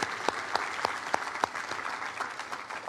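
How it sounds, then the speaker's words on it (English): An audience at an awards event for young scientists applauds, a short burst of dense clapping with a few sharper claps standing out, heard alone. "Let's give Liam one more round of applause if we could, please."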